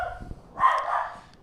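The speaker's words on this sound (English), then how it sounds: "So that's my dog barking" A pet dog barks from across a home, a short burst of yaps swelling midway and trailing off, moderately loud with no talk over it.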